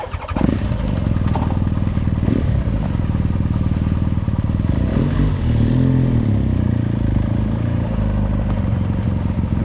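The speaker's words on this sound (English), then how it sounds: "And let's start the bike." A motorcycle engine cranks and catches, then settles into a loud, steady idle rumble up close.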